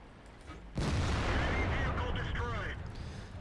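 A tank cannon firing in World of Tanks, a sudden loud boom that swells into a sustained rumbling roar lasting a few seconds, with other muffled game sounds around it.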